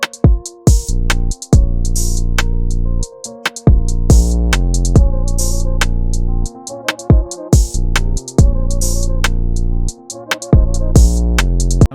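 UK drill beat built in FL Studio, with hard sliding 808 bass, crisp hi-hats and snares over a dark melodic loop, playing loud and steady on its own with brief drop-outs.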